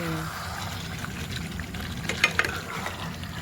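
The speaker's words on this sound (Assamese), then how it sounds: "দেখিছা কেনেকৈ উতলি আছে, ইমান ধুনীয়াকৈ উতলি আছে ন" Chicken curry simmering in a pot, with a steady bubbling hiss and a couple of sharper pops near the end, close and moderately loud.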